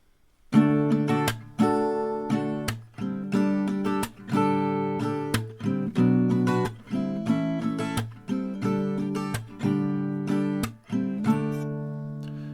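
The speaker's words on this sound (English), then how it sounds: "Now let's go into the strumming, just the plain strumming, and it sounds like this for one round." Acoustic guitar strummed in a steady rhythm, full chords ringing with regular down-and-up strokes, played alone with no voices.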